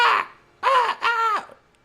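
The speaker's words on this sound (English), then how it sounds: "You hear the sounds of crows." Crows caw three times close by, harsh drawn-out calls separated by brief pauses, with no other sound around them.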